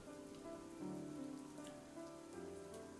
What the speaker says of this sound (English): We stand in the rain in silence for a moment